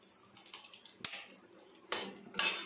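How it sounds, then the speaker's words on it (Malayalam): Three eggs are scrambled in a pan with cutlery, giving faint scraping and then three sharp metallic clinks of utensil against pan, spaced apart and fairly close. "ഇനി ആ പാനിൽ തന്നെ ഒരു 3 മുട്ട നമുക്ക് ചിക്കി എടുക്കാം"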